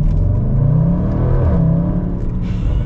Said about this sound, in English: So we're gonna get our acceleration here shortly with the SVR.